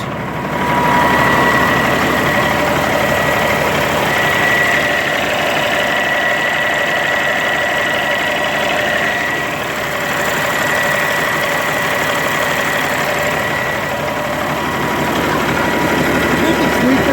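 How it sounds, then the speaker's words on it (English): An old farm truck engine idles steadily with a rough, knocking rumble that stays even and continuous throughout, close and fairly loud; the truck leaks antifreeze. "Gotta love these old farm trucks."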